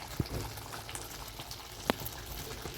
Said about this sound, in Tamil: பாருங்கள் எந்த அளவுக்கு நல்லா கொதிக்குதுன்னு.